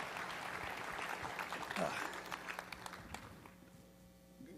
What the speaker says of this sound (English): give Matt a warm round of applause as he comes to the stage